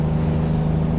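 A Kenworth T2000 truck engine in American Truck Simulator gives a steady, deep, droning exhaust tone, loud and continuous with no talk over it.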